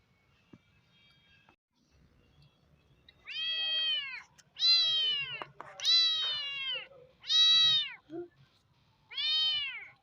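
A cat meows five times in a row, close and clear, each call a drawn-out, wavering cry separated by short pauses in an otherwise quiet room.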